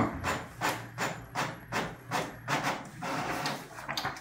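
An inkjet printer with a fault that leaves vertical line streaks runs a page through, giving a steady series of rhythmic mechanical passes and thumps, close and fairly loud, with no talk.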